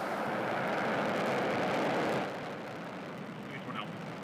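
Roaring rumble of a SpaceX Falcon rocket lifting off with the Crew 4 mission, heard as a broad, distant thunder that swells and then eases, under a voice speaking over it.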